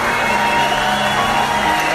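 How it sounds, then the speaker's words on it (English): A large crowd at a parkour film premiere cheers and whoops loudly and without pause, a dense wall of shouting voices filling the whole moment. "Every time an insane jump happened, everyone would go crazy and start cheering."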